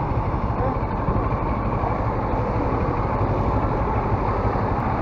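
A CF Moto adventure motorcycle engine runs steadily, likely at idle. Its dense, even rumble stays close and loud with no break across the stretch.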